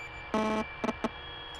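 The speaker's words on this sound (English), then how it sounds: "there's like a buzzing noise" An electronic tone in headphones in The Suicide of Rachel Foster, heard as one steady sustained note followed by two shorter pulses, close and clear over a quiet hum.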